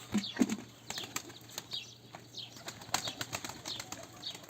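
A Kayseri play pigeon lands on a roof with soft, quick flaps of its wings, scattered faint flutters and rustles over light background noise.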